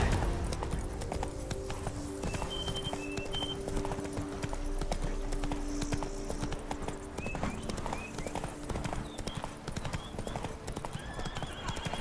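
Hooves of a galloping horse in The Witcher 3 pound in a steady rapid rhythm, close and prominent, with game music and ambient tones beneath and faint whinny-like sounds now and then.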